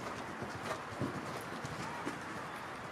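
Horse hooves thud softly on an arena surface during a dressage lesson at a riding school, a faint uneven clip-clop rhythm buried in steady wind and background noise.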